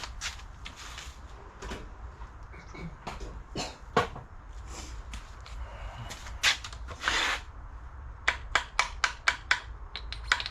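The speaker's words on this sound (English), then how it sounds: "So we'll find the hammer and we'll tap it on." Several sharp metallic hammer taps fitting a seal onto a Ferguson T20 tractor hydraulic lift cylinder ring out, some spaced apart and then a quick run of repeated strikes near the end, over quiet background hum.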